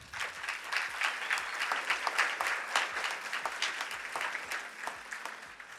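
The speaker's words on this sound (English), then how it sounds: "Can I get a round of applause for that?" An audience at the Arkansas Business of the Year awards ceremony breaks into sustained applause, a dense, steady patter of many hands heard from within the room.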